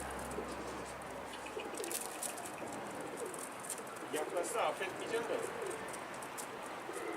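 Pigeons coo softly nearby amid outdoor ambience, while a person speaks over them.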